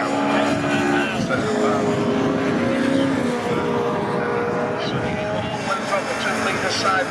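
Pre-1983 Group 1 and pre-1966 touring cars, including a BMW, racing at Croft circuit, their engines a continuous loud roar that rises and falls as they pass, under a commentator's voice.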